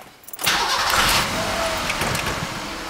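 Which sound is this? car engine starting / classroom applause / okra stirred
car engine starting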